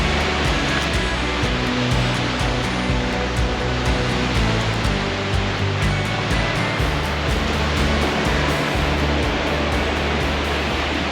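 Ocean surf at a Maldives island resort on Kuredu Island, a steady, broad wash of breaking waves and rushing water that stays loud and continuous with no voices.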